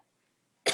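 A single sharp cough bursts out near the end after near silence, brief and fairly close, from a person who has been a little sick.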